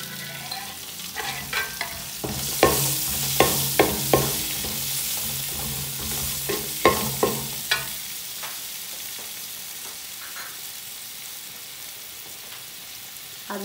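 Onions fry in very hot oil for an Arabic biryani, a steady sizzle broken by several clicks and scrapes from stirring early on that fade to a quieter hiss, close by with no voices.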